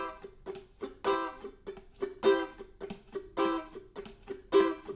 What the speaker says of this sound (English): And the reggae strum would sound like